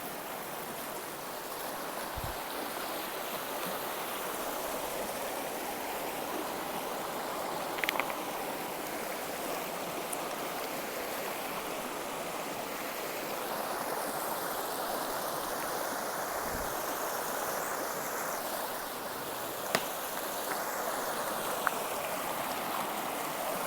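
High river water rushes past in a constant broad roar, with a few faint knocks and clicks scattered through it, heard close and alone without anyone talking.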